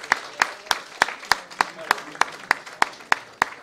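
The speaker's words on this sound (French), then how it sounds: "On peut les applaudir encore." Audience at a congress gives rhythmic, evenly spaced applause, a steady beat of loud claps heard close in a hall with some room murmur.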